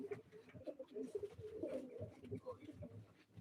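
Pigeons coo softly in a loose, overlapping murmur at a live pigeon auction, with faint background bustle.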